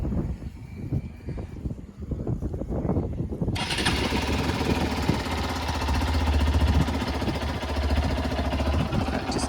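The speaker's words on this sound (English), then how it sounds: "record the exhaust note of motorcycles" A Hero Xpulse 200 4V motorcycle's exhaust is heard. A quieter, irregular engine sound comes first, then a sudden, louder, steady exhaust drone takes over and holds until the end.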